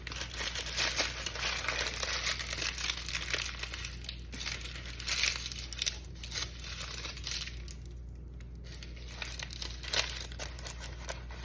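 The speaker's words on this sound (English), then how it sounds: "Sometimes it gets stuck on the inside of the paper, so you just have to twist it." Paper twisted and crinkled around a log of homemade goat cheese, a soft, close, continuous rustling and crackling, fairly quiet, with no one talking.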